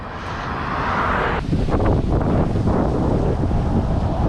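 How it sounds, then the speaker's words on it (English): Strong wind buffets the microphone in a steady, roaring rush, with low rumbling gusts that swell slightly partway through. "Yeah, I'd say it's windy."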